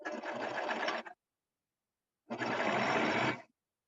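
A sewing machine stitches a shirt in two close, steady bursts of about a second each, separated by a short silence, with no talking over them.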